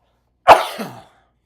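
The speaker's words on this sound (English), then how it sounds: "Deep breath in. Then cough." A single sharp cough during a pulmonary rehabilitation breathing exercise bursts out close by, followed by a short raspy trailing breath, then silence.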